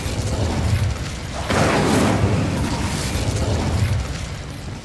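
Incendio fire spell cast in Hogwarts Legacy, a loud whooshing burst of flame that flares up midway and holds steady over a low rumbling game soundscape.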